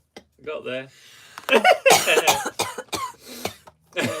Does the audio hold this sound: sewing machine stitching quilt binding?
no